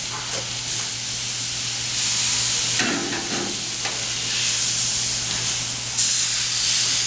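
Pork tenderloin sears on a hot grill with a loud, steady hiss and sizzle throughout, plus a brief rustle partway through.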